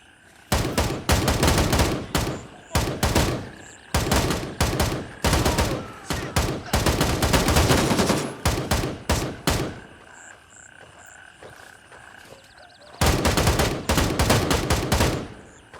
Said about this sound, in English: I think the gun sounds needs a bit of work. They sound kind of flat.